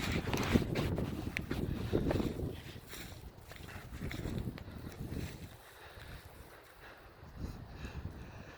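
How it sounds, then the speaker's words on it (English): Wind gusts across the microphone at a deer hunting camp beside a pond, a rough, rushing roar that swells and eases over several seconds with no talking. "it's kind of windy"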